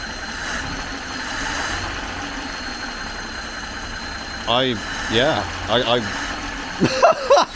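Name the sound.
1939 Rover Tickford 20 engine idling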